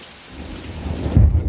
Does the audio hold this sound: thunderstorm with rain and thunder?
yes